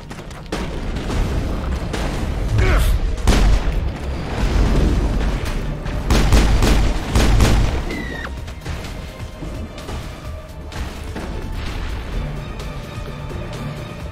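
Gunfire and impacts in the sci-fi game Mass Effect: a loud burst of repeated sharp shots and crashing hits for several seconds, then quieter scattered reports and rumble.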